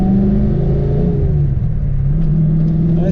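A car being driven around, its engine droning loud and close with a rising and settling pitch as it accelerates, a continuous rumble throughout with no talk.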